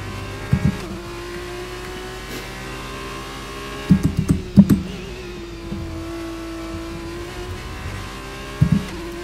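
An F2 race car engine in the F1 23 racing game drones steadily at a constant pitch, and several short, punchy bursts break in near the start, around the middle and at the end.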